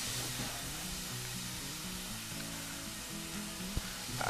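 Chopped onion sizzles and fries in a hot pan as the base of a chicken and mushroom risotto, a steady soft crackle with a small clink near the end.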